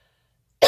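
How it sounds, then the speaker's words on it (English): A single sharp cough bursts out near the end after near silence, close and fairly loud. "excuse me, I'm just gonna cough."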